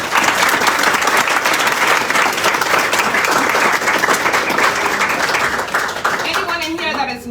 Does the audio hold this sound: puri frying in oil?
no